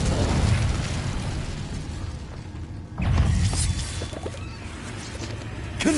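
Incendio fire spell going off in Hogwarts Legacy combat, a loud whooshing burst that swells, fades, then erupts again with a second blast near the midpoint, no one talking.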